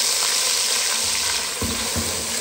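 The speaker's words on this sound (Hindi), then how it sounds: "फिर हम इसमें ये कद्दू डाल के जो है ना ये भून लेंगे" Pumpkin fries with cumin in a pan, giving a steady, close sizzle throughout, with a few soft stirring knocks near the end.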